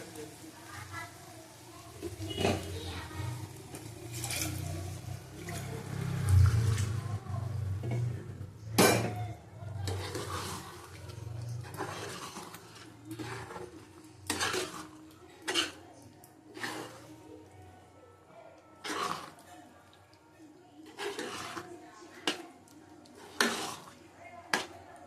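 A metal pressure cooker knocks and clanks as it is washed and filled with water. Scattered, fairly soft bangs fall between stretches of steady talking.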